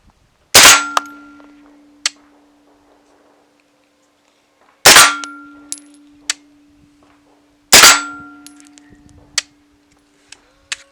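A Warscorp9 airsoft gun styled after the CZ Scorpion fires three single shots, spaced several seconds apart. Each is a sharp, close, metallic crack that rings briefly, followed by small clicks and rattles.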